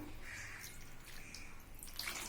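Water poured into a mixer jar while cooking Goan mullet ambot tik curry, a steady close splashing trickle running for about two seconds with no talk.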